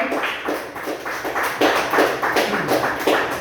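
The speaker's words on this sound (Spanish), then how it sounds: "Damos una fuerte ofrenda de palmas a nuestro Padre Celestial." A church congregation claps together in a sustained, fairly loud burst of applause offered to God, the dense clapping swelling and surging in waves with no talking over it.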